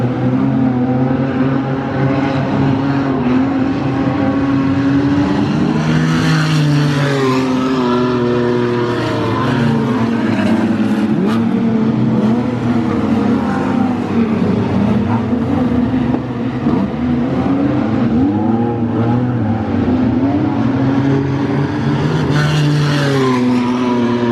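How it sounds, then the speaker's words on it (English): A wingless sprint car misfires on about five cylinders around the Murray Bridge Speedway dirt track, a loud rough continuous engine note rising and falling through the full stretch, with no talk over it. "only running on about 5 cylinders, so he's having a bit of trouble there"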